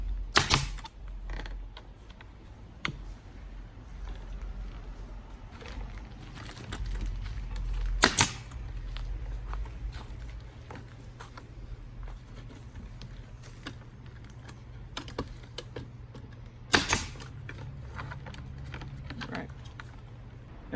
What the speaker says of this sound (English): so we're just going to kind of just shoot a little nail in through them